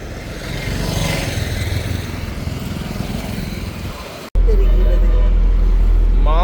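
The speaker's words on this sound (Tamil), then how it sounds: "சரியா டிராஃபிக்கப்பா இந்த நேரங்களில்" Busy evening road traffic near a beach, with cars and motorcycles passing in a dense, rumbling wash of engine noise while people talk over it, then a sudden cut to loud wind buffeting.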